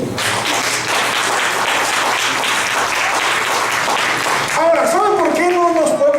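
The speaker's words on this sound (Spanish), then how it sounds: "Denle un aplauso al Señor." A church congregation applauds for about four and a half seconds in dense, steady clapping, then the applause gives way to a voice speaking loudly over the fading crowd noise.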